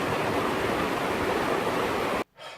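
Alum Cave Creek in Great Smoky Mountains National Park rushes in a steady, loud broadband wash of flowing water beside a parking lot, cutting off abruptly near the end.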